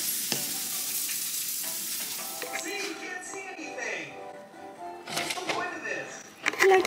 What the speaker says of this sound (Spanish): Aún estoy cocinando, sorry por el ruido.